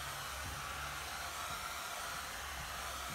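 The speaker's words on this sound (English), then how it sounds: "I'm just going to turn it on to low. And I just keep the blow dryer moving." Blow dryer on its low setting drying acrylic paint on an under-the-sea painting, a faint, even airy hiss with a low motor hum running steadily throughout, no voices over it.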